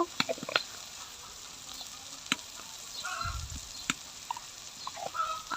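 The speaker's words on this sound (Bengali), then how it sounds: "একটু লাড়া দিয়ে নিব যাতে আদা রসুনের গন্ধটা চলে যায়" A ginger-garlic spice mix sizzles as it fries in a pan and is stirred, giving a soft steady crackle with a few sharp clinks and scrapes of the spoon.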